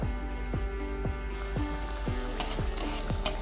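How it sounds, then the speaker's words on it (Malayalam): A mung bean and banana snack frying in coconut oil, giving a steady close sizzle and crackle with a tool tapping the pan in a regular rhythm of roughly two beats per second. "ഇനി നമുക്ക് ആ ഭാഗം ഒന്ന് ഫ്രൈ ചെയ്തെടുക്കാം"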